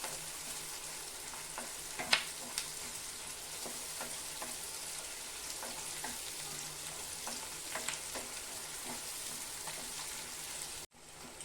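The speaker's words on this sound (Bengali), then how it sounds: "এখন আমি একটু ভেজে নেব।" Onions and green chillies frying in a pan for chilli chicken, a steady close sizzle with occasional stirring clicks and scrapes throughout, ending abruptly.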